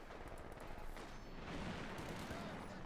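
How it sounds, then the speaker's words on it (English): Light machine gun fire in Company of Heroes 2, a dense, continuous rattle of rapid shots that stays loud and steady for just under three seconds. "firing with a light machine gun"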